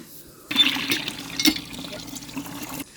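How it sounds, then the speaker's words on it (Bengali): Water splashes and trickles while leafy greens are washed by hand in a village setting, a close, steady wet swishing with small drips and clinks, faint voices in the background. "শাকগুলোকে এখন ধুয়ে নিচ্ছিলেন"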